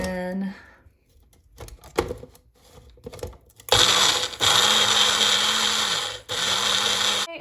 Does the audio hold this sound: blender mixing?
yes